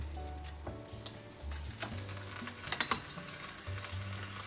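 Pork logs sizzle and crackle steadily in hot olive oil in a frying pan, with a low musical hum underneath and occasional scraping clinks nearby.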